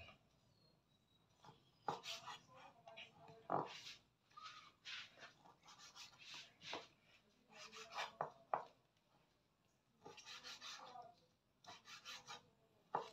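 Pork being chopped for dinuguan, with irregular bursts of knife strokes and scraping against a board, coming in clusters separated by short pauses, fairly close and alone.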